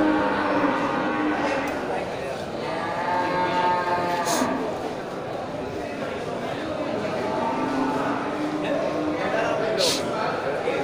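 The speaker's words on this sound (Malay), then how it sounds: "selain dari kerbau jantan juga terlihat ini banyak kerbau indukan yang masuk ya" Water buffaloes low and moo repeatedly at a busy livestock market, calls rising over a steady crowd murmur and people talking throughout.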